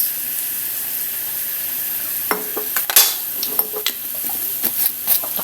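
Tomatoes sizzle steadily in a hot pan while being pressed and stirred, with scraping and sharp clinks of a spoon against the pan joining partway through.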